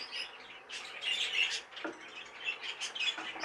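Young budgies keep up a busy, close chatter of high chirps and tweets in uneven bursts, with a few soft rustles and no voices.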